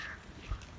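A crow caws faintly beside water at a fishing spot, a short, distant call over low background noise.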